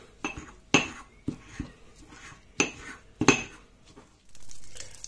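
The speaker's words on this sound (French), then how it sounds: "Et maintenant, on pilonne." A pestle pounds garlic and parsley in a mortar, giving about half a dozen hard clinking strikes at uneven intervals, followed by a brief soft rustle.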